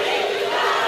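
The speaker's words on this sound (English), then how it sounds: "The crowd chanting Cody." A crowd chanting a performer's name at a beach club show, a dense, loud, sustained mass of voices filling the brief moment.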